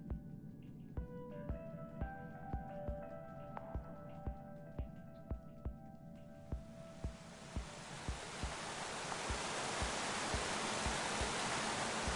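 A waterfall in Minecraft: Story Mode swells in as a broad, rushing roar that grows louder and steadier, taking over from a soft musical passage with a regular thumping beat.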